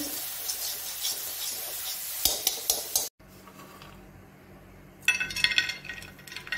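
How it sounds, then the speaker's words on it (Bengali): Dry fruits roast in a pan for a halwa garnish, stirred with a utensil that scrapes and clinks against the metal in bursts, separated by a brief near-silent pause. "আমি ড্রাই ফ্রুটসগুলো একটুখানি রোস্ট করে নিচ্ছি। এটা হালুয়াতে গার্নিশিং করব বলে।"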